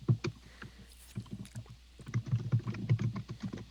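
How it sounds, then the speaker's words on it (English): Computer keyboard typing picked up on a podcast microphone: a rapid, irregular run of soft clicks and clacks, fairly close and steady, with no voices over it. "I love how you can hear the click clacking of his keyboard"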